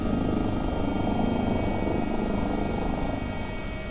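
Inside an AW-139 air ambulance helicopter in a flight simulator game, the engine and rotor produce a steady, loud, close drone with a low rhythmic rotor thrum and a thin high whine, with no other sounds.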